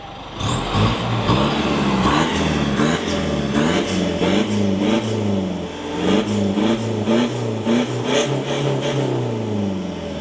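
A loud car engine revs up and down repeatedly with its bypass exhaust valve open, its pitch rising and falling in surges with a rough, throaty exhaust note.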